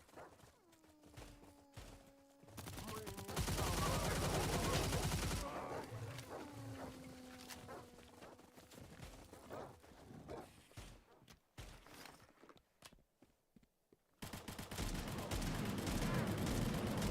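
Gunfire during a boss fight in an online game, bursts of rapid shots mixed with roaring creature sounds and loud blasts, coming in intermittent waves over ambient game noise.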